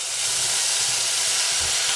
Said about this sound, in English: Now, we still have our hot pan here. We are going to add some vinegar to that,